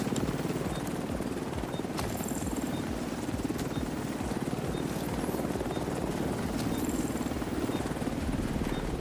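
Helicopter rotors chop loudly and continuously as the craft arrives for pickup in a video game's Dark Zone, with small electronic beeps and clicks over the thumping blades.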